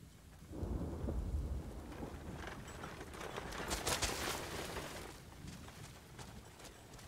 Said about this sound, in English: What? That rain effect?